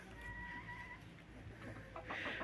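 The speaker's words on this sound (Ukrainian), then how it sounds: "Курочки ходять біля сарайчику" Soft clucking of chickens near a shed, faint and intermittent over quiet outdoor background.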